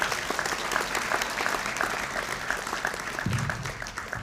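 Sustained audience applause at a design college graduation ceremony, dense clapping from a large crowd indoors, steady throughout.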